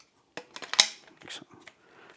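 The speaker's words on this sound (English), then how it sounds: "It's a click fit system." A cleaning tool clicks onto the wand of a Shark IZ251UK Anti Hair Wrap DuoClean cordless vacuum: a few close, sharp plastic clicks and snaps, one especially crisp, with light handling noise before and after in a quiet room.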